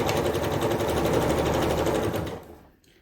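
A sewing machine stitching a jelly roll rug runs in a fast, even mechanical whir close by, then slows and stops near the end.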